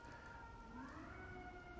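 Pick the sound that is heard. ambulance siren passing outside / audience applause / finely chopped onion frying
ambulance siren passing outside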